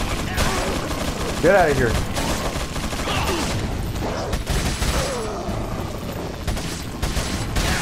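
Rapid TMP submachine-gun bursts in Resident Evil 4 crackle through a busy, loud game mix, with someone talking over the gunfire and a shouted line from a game character.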